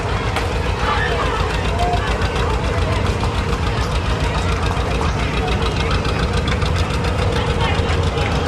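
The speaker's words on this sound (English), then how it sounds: "Thank you, Bob, for driving the tractor." A tractor engine pulls a float in the Axtell parade, a continuous loud, knocking rumble that runs the whole time, with a voice heard over it.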